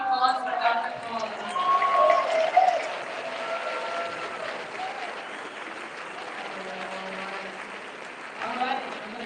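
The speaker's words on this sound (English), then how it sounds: "Give a final round of applause for Dr. Paul." Audience applause at a Libertarian convention, a sustained, fairly distant patter of clapping that fades to a lower level, with a voice speaking over it.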